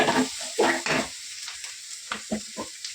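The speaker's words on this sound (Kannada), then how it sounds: "ಈರುಳ್ಳಿ ಸ್ವಲ್ಪ ಚೆನ್ನಾಗಿ ಫ್ರೈ ಆಗಲಿ" Onion frying in oil in a pan for Kannada nugge soppu upsaru, with bursts of sizzle and stirring in short clusters, loud near the start and again toward the end, quieter crackle between.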